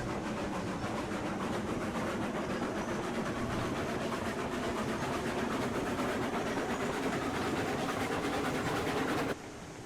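A train hauling ore and cordwood cars in the winter setting of the video game Railroads Online, rolling on with a steady clickety rumble and a dense mechanical chug that stops abruptly near the end.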